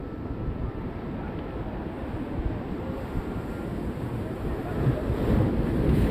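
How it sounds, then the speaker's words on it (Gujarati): Sea waves surge onto the shore at Diu, a steady broadband roar of surf mixed with wind buffeting the microphone, continuous and building slightly toward the end. "કેવા મોજા આવી રહ્યા છે."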